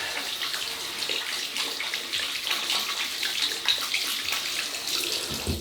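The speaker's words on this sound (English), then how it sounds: "I'll just rinse my hands." Hands rinsed under a running tap at a sink during a wet shave with coal tar shaving soap, a steady close hiss of flowing water with light splashing throughout.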